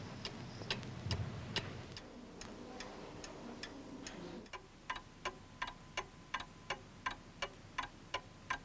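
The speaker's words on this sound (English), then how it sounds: "And over 60 splendid antique clocks." Many antique clocks in the grandest English country house tick together, a faint tangled chorus at first that settles into one steady, evenly spaced ticking, crisp and moderately close, with a low hum beneath.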